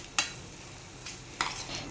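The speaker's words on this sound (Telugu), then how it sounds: "ఇప్పుడు ఇదంతా కలిపేద్దాం బాగా" Spoon stirring a mashed pea chaat mixture in a bowl at home, heard as a few soft, brief scrapes and clinks spaced across a quiet moment.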